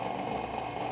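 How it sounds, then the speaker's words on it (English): Stand mixer on its stir setting mixing bread dough, a brief steady motor hum with faint rattling vibration, fairly quiet and alone. "I have it on the stir setting, and right now it's just incorporating the wet ingredients into the dry."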